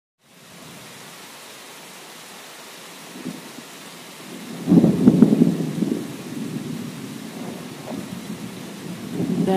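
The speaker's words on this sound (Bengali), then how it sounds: "বাইরে প্রচুর বৃষ্টি হচ্ছে" Heavy rain pours steadily in a cartoon storm, with deep thunder rumbling in from the middle and swelling into loud rolling peaks toward the end.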